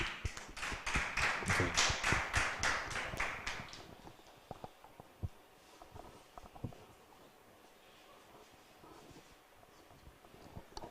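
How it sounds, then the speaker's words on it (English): Audience at the Miss Eminence Ghana 2024 pageant applauds a performer: a dense burst of clapping for about four seconds, then thinning to a few scattered claps over quiet room noise. "Please, a round of applause for Renee."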